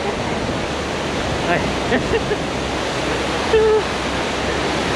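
Waterfall on Iceland's Golden Circle, heard up close as a broad, steady roar of rushing, spraying water, with a few faint voices surfacing briefly beneath it.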